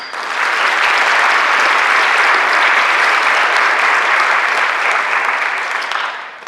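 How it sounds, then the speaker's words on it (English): An audience at a Phi Theta Kappa induction ceremony gives a round of applause, dense sustained clapping that swells in quickly, holds steady and loud for several seconds, then tapers off. "give this group a round of applause"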